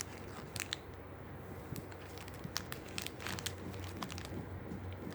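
Opening the wrapper of a Tiffany Break chocolate wafer bar: irregular crisp crinkles and rustles of plastic packaging close to the microphone, quiet overall, with no talking.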